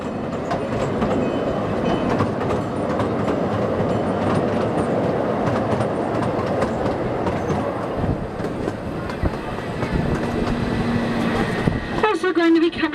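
A safari park ride train rolls along its rails with a continuous rumbling clatter and rhythmic wheel clicks, and an announcer talks over the noise before a brief squeal near the end.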